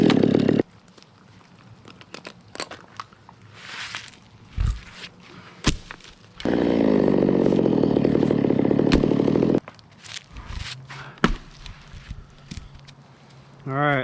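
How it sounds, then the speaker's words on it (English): Chainsaw cutting firewood outdoors after a tree has been felled, a steady loud engine drone of about three seconds in the middle, surrounded by scattered knocks and thumps; voices are heard around it. "I'm not gonna show the rest. I'm just cutting firewood."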